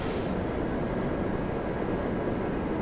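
Continuous broadband jet roar from a Boeing 787-10 airliner at Toronto Pearson, bound for Heathrow, a steady distant rumble with no voices.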